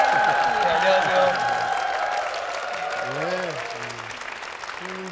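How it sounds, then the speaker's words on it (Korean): Residents applaud warmly at the opening of a Segye Vision Church event in Cheongna, Incheon; steady, dense clapping runs throughout, with music and a voice underneath. "주민들의 뜨거운 박수와 함께 시작을 했습니다"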